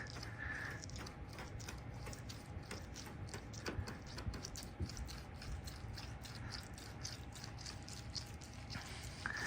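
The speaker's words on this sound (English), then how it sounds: "I can hear the tick-tick of the clay bar hitting those spots and going away" Faint, rapid ticking and clicking as a clay bar catches on the paint of a 1969 Plymouth Roadrunner, repeating irregularly under a quiet background hiss.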